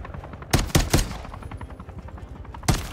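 Gunfire in Call of Duty Modern Warfare III: loud, close shots, three heavy blasts in quick succession followed by a lighter rattle of fire and one more sharp shot near the end, with no talk.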